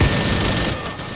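Grenade explosion in the R.I.P.D. The Game video game, a loud low boom with rumbling noise filling the short moment.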